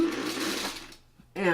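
A hand-crank sewing machine stitching a seam: a fast, steady mechanical whirr for about a second, then a pause and a short restart. Close and fairly loud.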